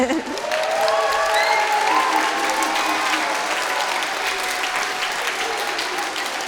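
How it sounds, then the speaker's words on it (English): A room full of people applauds steadily, the clapping swelling early and carrying on evenly, with a few whoops and cheers mixed in. "We just gave him a big clap."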